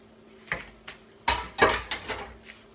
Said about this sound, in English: Just stir them in the sauerkraut